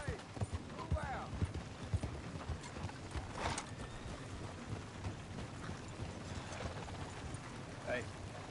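Horse hooves clip-clop in a steady uneven rhythm outdoors, fairly faint and close, with a voice calling out briefly.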